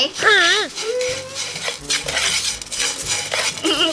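Metal utensil scraping and stirring through dry, crunchy tapioca granules in a pan, with a brief high voice at the start and faint murmuring.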